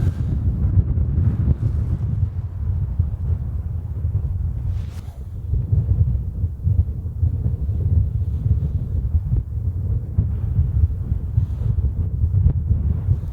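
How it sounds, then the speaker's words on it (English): Strong wind buffets the microphone outdoors high on a cold summer mountain, a loud, continuous low roar with gusty swells and a brief lull near the middle, no voices. "the wind chill up here is no joke"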